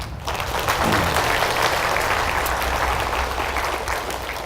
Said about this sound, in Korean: 박수를 한번 쳐보자